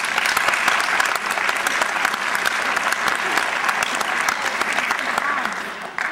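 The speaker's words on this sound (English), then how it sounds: "Please give them a round of applause." A high school band concert audience applauds in a full, steady roar of clapping that holds at an even level from start to finish.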